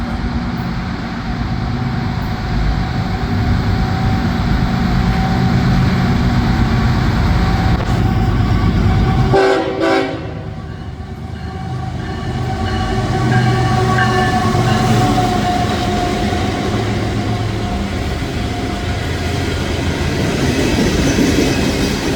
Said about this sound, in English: here comes a CSX freight heading east